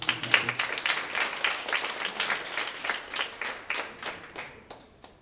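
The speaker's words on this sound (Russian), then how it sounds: "Еще раз можно аплодировать." Concert audience applauding between songs, a dense wash of many hands clapping at a steady level for several seconds, then thinning and fading out.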